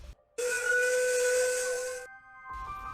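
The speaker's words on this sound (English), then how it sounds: "they both heard Giant's whistle" A loud, steady steam whistle blasts for about two seconds with a hissy edge, then cuts off abruptly, leaving a brief pause of quiet.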